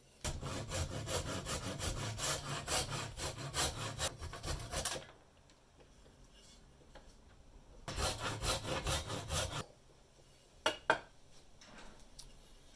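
Hand saw cutting the sides off a wooden sword pommel, no power tools: two bursts of steady back-and-forth sawing strokes, close and loud, separated by quiet gaps, with a couple of sharp knocks near the end.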